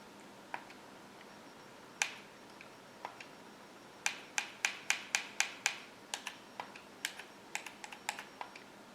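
Typing into a search field on an Amazon Firestick using a keyboard, with sparse single key clicks first and then a quick run of evenly spaced taps, close and crisp in a quiet room.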